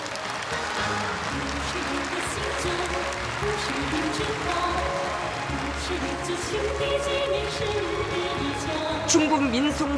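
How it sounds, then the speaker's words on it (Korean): Enthusiastic applause fills a stadium hall at a state friendship event, a dense, steady wash of clapping across the whole stretch, with background music and a broadcast voice running underneath. "장내에는 열렬한 박수가 터져 올랐습니다"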